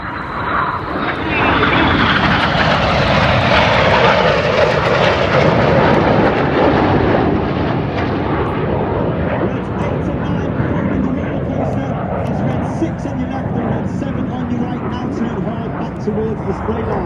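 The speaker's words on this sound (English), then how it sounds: "Each aircraft now dive down to only 100 feet above the airfield." RAF military jets making a low pass over the airfield at the IWM Duxford airshow, a loud roaring jet rush that swells and then holds as a steady rumble, with an announcer talking over it.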